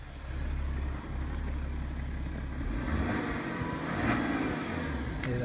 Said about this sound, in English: Here that six-cylinder engine, beautiful.